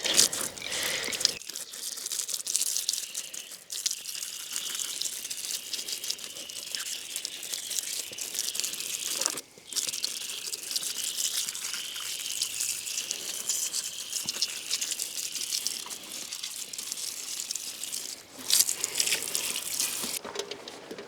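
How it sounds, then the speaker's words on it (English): Steady hiss of running water rinsing a part from a Honda ATC 250R engine during a teardown, continuous and close for about twenty seconds with a few short breaks and light clatter, no voices. "just give her a quick little rinse"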